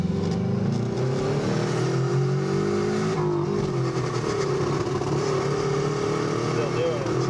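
A Subaru EA82T turbo engine runs loudly on a public road, its droning note rising and sagging as it cuts out, with people talking over the engine noise.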